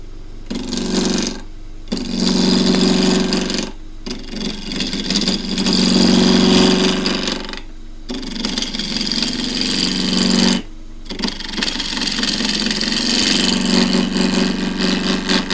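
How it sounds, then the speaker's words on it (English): A 1/2 inch spindle gouge roughs down a rectangular Tasmanian sassafras bowl on a wood lathe, giving a loud, steady, rushing cutting roar broken by several short pauses as the tool lifts away. "Now, as usual, I'm going to rough down with a 1/2 inch spindle gouge."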